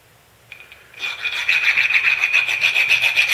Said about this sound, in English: It's a good idea to file out the inside of the barrel nuts to get rid of the sharp edges.